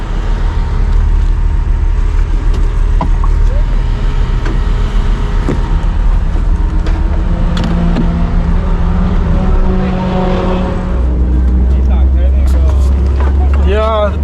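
A Toyota GR Supra circles a race track with its engine droning steadily from inside the cabin, loud and continuous, while occupants talk over it.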